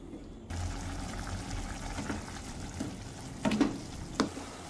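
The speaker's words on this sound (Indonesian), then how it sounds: "Kita masak sampai airnya surut." Sauce with oyster sauce simmers and bubbles in a pan as it reduces, a soft steady sizzle broken by a few louder scraping stirs of a utensil against the pan, close and without talk.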